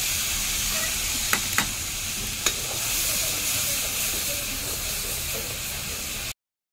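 Masala with cumin and chilli frying in oil in a home kitchen for a jackfruit curry: a steady, close sizzle and hiss throughout, with a few faint clinks from stirring.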